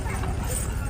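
Horses' hooves clip-clop along the Vaishno Devi pilgrimage trail in a steady rhythm, with a murmur of voices and crowd noise running beneath.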